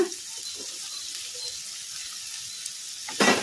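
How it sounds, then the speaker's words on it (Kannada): Steady, hissing sizzle of half-boiled cauliflower frying in a pan on medium flame, close and continuous, with a few soft stirring knocks and a brief louder scrape at the end. "ಇದನ್ನೆಲ್ಲ ಮೀಡಿಯಮ್ ಫ್ಲೇಮಲ್ಲೇ ಫ್ರೈ ಮಾಡ್ಕೋಬೇಕು"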